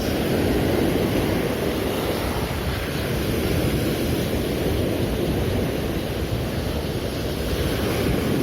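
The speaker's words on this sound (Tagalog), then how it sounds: "Malaki yung alon." Big ocean waves roar continuously at a fishing spot where lures are cast, a dense, steady wash of surf with wind buffeting the microphone and no voices.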